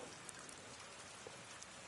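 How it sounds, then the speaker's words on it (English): Steady, quiet rain falling in the video game Avatar: Frontiers of Pandora, a soft continuous hiss with scattered droplet patter, even and unbroken with no voices. "So with the game raining like this"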